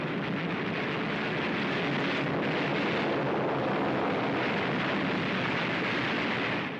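Anti-aircraft guns fire nonstop at an attacking Japanese torpedo bomber in wartime, a loud, dense roar of gunfire that holds steady throughout with no pause.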